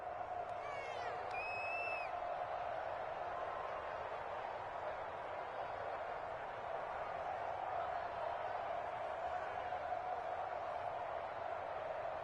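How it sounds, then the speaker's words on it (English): A stadium crowd at an NFL football game between the Jets and Ravens shouts and murmurs steadily while watching a replay, a broad, distant roar with a brief whistle-like whoop near the start and no clear talk over it. "Plenty of shouts from this crowd as they watch the replay"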